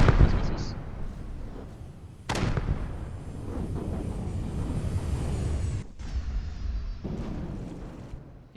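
Cruise missiles fire in a video game as a dense barrage of loud, booming blasts that rumble almost continuously, with a couple of sharp breaks between bursts and a faint voice underneath.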